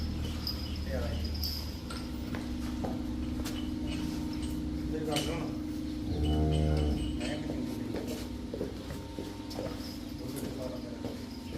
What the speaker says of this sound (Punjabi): ਹੁਣ ਆ ਗਈ ਆਪਣੇ ਕੋਲ ਗਾਵਾਂ ਜਿਹੜੀਆਂ ਦੋ ਤੁਹਾਨੂੰ ਦਿਖਾਉਣੀਆਂ